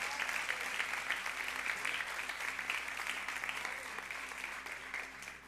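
A church congregation at an evening celebration service applauds steadily, a broad wash of many hands clapping at a distance, fairly soft and fading slightly toward the end.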